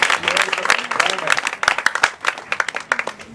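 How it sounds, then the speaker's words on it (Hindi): A church congregation applauds during a Pentecost sermon, bursts of hand clapping with sharp, uneven peaks, fairly close, over a background of voices. "तालियां बजाएंगी।"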